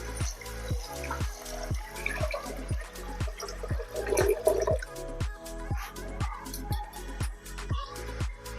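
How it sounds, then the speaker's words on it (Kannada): Water is poured close up into a pot of dal with tomatoes, turmeric and salt, giving a steady run of gurgling, glugging splashes. "1-2 ಲೋಟ ನೀರು"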